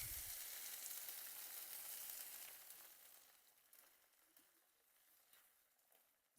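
Egg for a breakfast quesadilla fries in a pan: a faint, steady sizzle that fades over several seconds to near quiet, with small scattered crackles.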